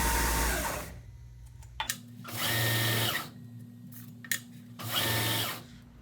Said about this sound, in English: run it over to the flat grinder, and put a 220 satin just to even everything out